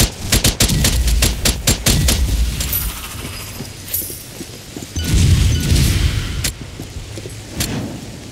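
Rapid bursts of gunfire from the co-op shooter Strange Brigade, loud and dense in the first two seconds, then scattered shots and booming impacts with crashes continuing throughout, no talk.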